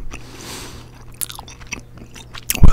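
Chewing gum worked close to the microphone in an ASMR recording, with wet, sticky smacks and crisp clicks scattered irregularly over a quiet background, ending in a louder burst of chewing.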